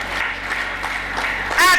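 A church congregation applauds briefly after a call from the preacher, a short burst of clapping mixed with voices that swells at the end.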